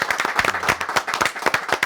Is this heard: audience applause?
yes